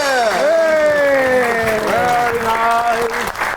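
A studio audience on a talk show applauds to welcome guests Adil Raajput and Farah Adil. The clapping is loud and continuous beneath a prominent sustained, gliding melodic tone.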